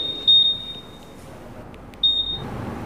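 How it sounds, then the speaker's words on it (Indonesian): Honda Scoopy 2021 scooter alarm chirping two short high beeps, about two seconds apart, close and clear over a faint background hiss. "lanjut mematikan alarm All New Scoopy"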